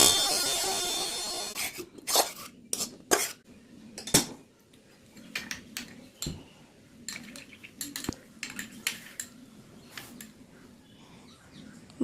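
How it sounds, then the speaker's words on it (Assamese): Butter paneer is scooped from a pan into a bowl, with repeated metallic clinks and scrapes of a spoon against cookware, close and irregular, after a short burst of hiss at the start. "এতিয়া ৰেচিপিখিনি মই বাউল এটাত উলিয়াই ল'ম।"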